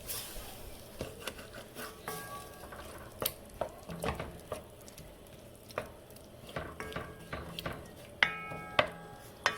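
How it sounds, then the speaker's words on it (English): A utensil stirs and scrapes around a pot while deglazing chicken tortilla soup, giving repeated close clinks and scrapes in an irregular rhythm over a soft simmering hiss. "Scrape the sides of your pot."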